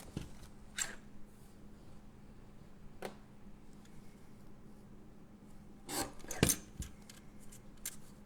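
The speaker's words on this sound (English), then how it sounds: "I'll pull in my little trimmer." A small paper trimmer slices through card stock during birthday card making, giving a few brief, crisp cutting strokes against a quiet room, with the last pair of cuts coming close together and slightly louder.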